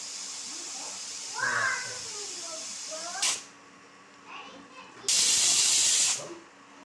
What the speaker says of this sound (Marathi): आपला कुकरच्या शिट्ट्या झालेल्या आहेत